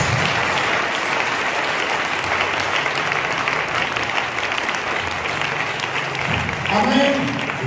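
A church congregation breaks into sustained, loud applause filling the whole stretch, with scattered voices and a swell near the end.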